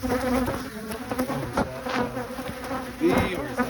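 Honeybees buzzing around a beehive, a steady close drone of many insects with individual passes swelling and fading, continuous throughout.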